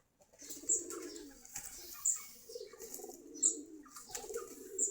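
A flock of about 45 pairs of pigeons coos softly while they eat, repeated low rolling coos in loose rhythm with brief flutters and faint chirps, fairly close and quiet.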